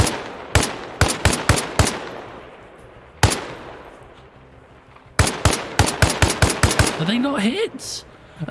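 Rapid gunfire from hip-fired weapons in the video game Arma Reforger with a DayZ mod: loud, close bursts of quick shots, then a pause with a single shot, then a denser volley followed by a rising whine.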